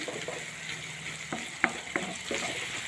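Peas, onion and chopped tomato stirred in a frying pan while cooking for matar rice, a steady soft sizzle under scattered scrapes and taps of a spoon against the pan, close, without talking.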